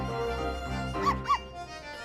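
Cartoonish dog barks from Professor Layton vs. Phoenix Wright, two short yips over steady game music, fairly quiet in the mix.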